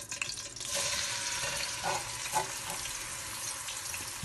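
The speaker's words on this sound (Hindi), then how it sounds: "अब इस मसाले को हम अच्छे से भून लेंगे" Chopped masala for kadhi kofta fries in hot oil in a pan, giving a continuous soft sizzle. Scraping stirs break in now and then, close by and moderately quiet, with no talking.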